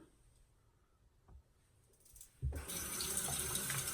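A tap turns on and water runs steadily into a sink, rinsing a vintage Gillette Toggle safety razor blade; a few faint handling clicks come first, then the loud, continuous gush fills the rest.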